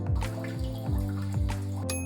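Water sprays steadily from a Japanese-style smart toilet's front wash under a low mechanical hum that rises and falls in short repeating sweeps.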